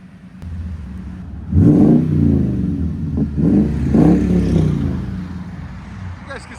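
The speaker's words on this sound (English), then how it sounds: "But when you get on it, you hear it." A 2021 Toyota Tundra 4x4 with a 5.7L V8 and Borla ProXS exhaust revs up close, with a couple of loud rising engine surges, a deep rumble between them, and a voice speaking over it.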